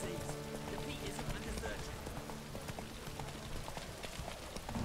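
Horse galloping in the video game The Witcher 3: Hearts of Stone, a steady run of hoof clip-clops at moderate level under game music and ambience, with talk over it.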